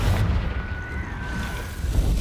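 A Confringo blasting spell goes off in Hogwarts Legacy, a dense, booming rumble of explosion and crackling debris that stays loud across the whole stretch, with a thin whistling streak running through its middle.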